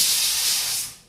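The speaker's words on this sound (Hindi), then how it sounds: "कुकर में सीटी लग गई है, चावल बन गए हैं" A pressure cooker cooking rice releases steam in a loud, steady hiss close by, fading out after about a second.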